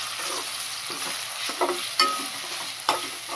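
Ginger garlic paste fries with onions in a pan, giving a steady close sizzle broken by a few sharp scraping stirs of the spoon.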